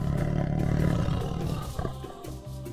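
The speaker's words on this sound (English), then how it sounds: "Tigers can roar loudly, and you can hear them from very far away." A tiger roars loudly and alone: one long, deep, rumbling call that swells at the start, then fades into lower, broken grunting toward the end.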